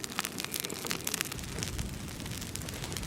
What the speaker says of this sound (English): this stuff burns surprisingly well and fast, even when we just took it out and it's still fresh and wet